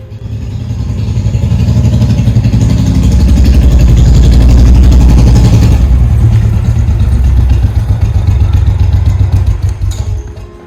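A motorcycle engine runs loud and close, with a steady mid-pitched throb that rises and then eases as the bike is moved indoors.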